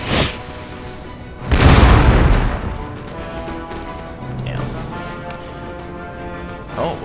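A loud booming cannon blast from an Empire: Total War battle bursts out, then rumbles and fades, with a smaller thud and crack following and some faint background noise.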